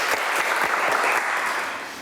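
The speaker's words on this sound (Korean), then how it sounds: "오늘 이렇게 함께 해주신 두 분께 감사의 박수 부탁드릴게요." Sustained applause from an audience at a campus event on naval architecture and ocean engineering, a dense steady clatter of many hands that holds strong before tapering off slightly at the end.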